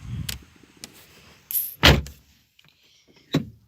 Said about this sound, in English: Locked door.